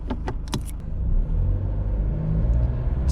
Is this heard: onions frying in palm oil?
no